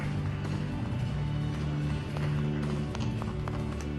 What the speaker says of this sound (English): Let's keep the applause going, ladies and gentlemen.